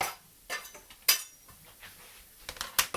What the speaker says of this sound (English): And you'll have to trust me that I'm giving it a stir